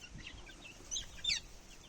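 Young chicks chirping in a small flock kept after several were sold and a few lost to illness, high thin peeps scattered and faint, a couple of brighter calls standing out over low background noise.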